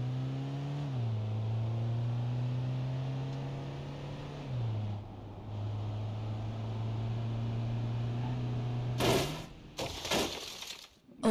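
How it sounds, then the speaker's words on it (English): Car in the BeamNG.Drive driving game plunging into a water pit at high speed, a steady engine drone shifting pitch before a sudden burst of crunching, breaking impact noises near the end. "The front of the car was destroyed."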